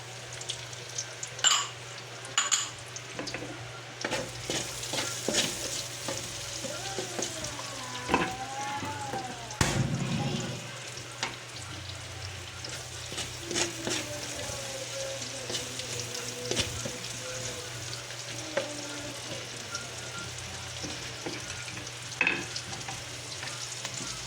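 Onions sizzle steadily in a pan while being stirred and sautéed for pinakbet, with soft scraping strokes and occasional light clinks over a constant low frying hiss.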